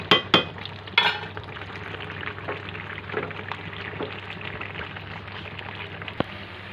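A steady low sizzle of native chicken frying on a low gas flame in a pan, with a few sharp scrapes and clinks of a utensil, loudest at the start.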